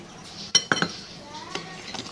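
Rice flour and wheat flour being mixed in a bowl, with a few sharp clinks of a spoon against the bowl followed by softer scraping and stirring, close by.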